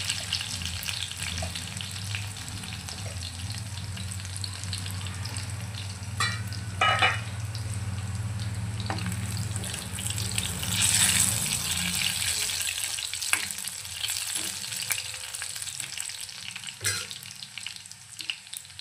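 Crushed garlic frying in hot oil for a mixed dal tadka, a continuous near sizzle with a few scrapes of stirring, brief louder bursts midway and no talking.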